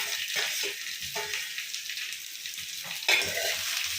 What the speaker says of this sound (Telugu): ఉల్లిపాయలు వేసుకోండి.